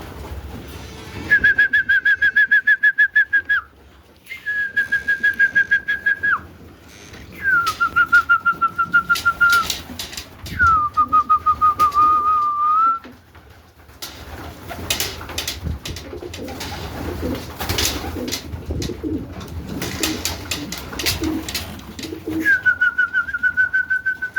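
Homing pigeons being flown for training, heard as a series of clear, drawn-out whistling bird calls in repeated phrases, with a busier stretch of fluttering, flapping noise in between.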